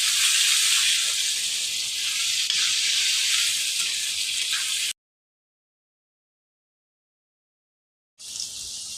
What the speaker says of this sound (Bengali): বন্ধুরা দেখুন আলুটাকে আমি ভালো করে ভেজে নিয়েছি লাল করে